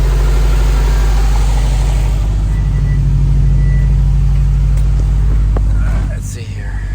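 A 2006 Subaru WRX engine idles on its first start after a new clutch install, with a loud, steady low rumble close by that stays even and then dips slightly near the end.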